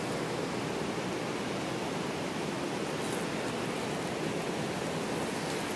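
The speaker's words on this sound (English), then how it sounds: "Horseshoe Falls, the highest flow rate waterfall in the world." Horseshoe Falls at Niagara roars from a boat on the water below, a dense, steady broadband rush of falling water, loud and unbroken throughout with no talk.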